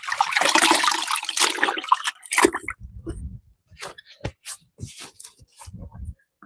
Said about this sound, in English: So I'm just going to let me rinse my hands a bit.